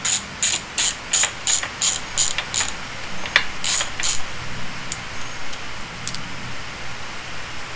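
A ratchet wrench backs bolts out of the water pump on a 1964 Mercury Thunderbolt 1000 100hp outboard. Close, crisp rhythmic clicking comes in about ten quick bursts, then pauses, with a few scattered clicks and handling knocks after.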